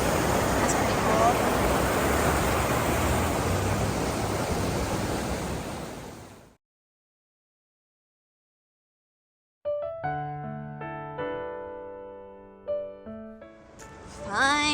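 River rapids on the Appalachian Trail roar with a dense, steady rush of white water for several seconds before cutting out abruptly to silence, after which a bit of music plays.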